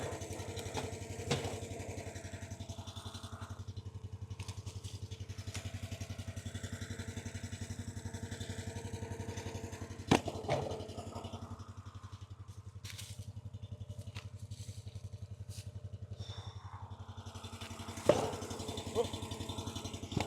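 A small engine on a Wolfe Ridge 28C log splitter runs steadily after starting, a faint, even chugging with a few sharp clanks and knocks over it.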